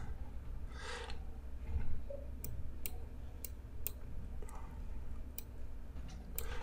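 Mouse button clicks while working in Cinema 4D 3D software on a computer, several sharp, isolated clicks spaced through the clip, faint and close over a low steady room hum with no talking.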